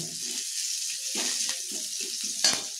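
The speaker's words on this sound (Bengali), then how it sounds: "আদা কুচি, দিয়ে দেব লঙ্কা কুচি একই সঙ্গে। একটু ভেজে নেব।" Chopped ginger and green chili fry in hot oil for paneer fried rice, a steady close sizzle with a few soft stirring scrapes and a brief louder crackle near the end.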